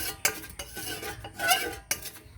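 A spoon mixing incense stick paste in a bowl, with a few close, uneven scraping and clinking strokes against the vessel, fairly quiet, no voices.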